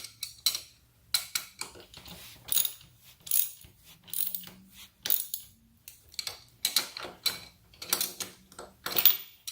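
A socket wrench ratchets a bolt tight while floorboards are installed on a Kawasaki Vulcan S 650, giving repeated short bursts of crisp clicking in an uneven rhythm, close and clear.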